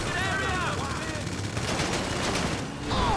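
Dense, continuous gunfire from a GTA 5 firefight rattles loudly throughout, like a sustained burst of rapid shots.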